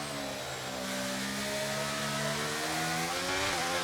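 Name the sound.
F1 car engine in F1 23 video game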